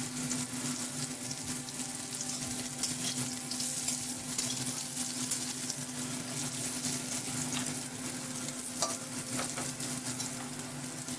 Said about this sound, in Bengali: এগুলো আমার ভাজা হয়ে গেছে, মোটামুটি এরকম বাদামি করে ভেজে নিলেই হবে।